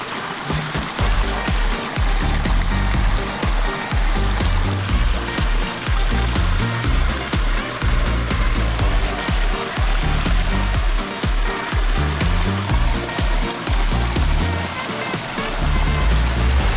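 Waterfalls in a garden pond pour steadily, a dense, continuous rushing splash that stays loud and close throughout without pauses.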